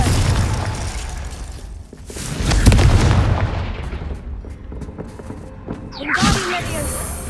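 Confringo fire spell from Hogwarts Legacy on PS5, heavy booming blasts and rumbling bursts rolling through a haunted house in Hogsmeade, with a sharp crackling whoosh near the end.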